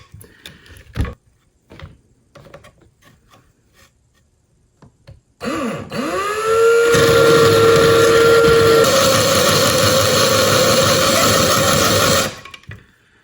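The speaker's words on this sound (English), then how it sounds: "Bring it over to the grinder." A grinder spins up and files the end gaps of piston rings for an LQ4 engine, a loud continuous whine and grinding hiss that rings steadily for several seconds and then stops, after some quiet handling clicks.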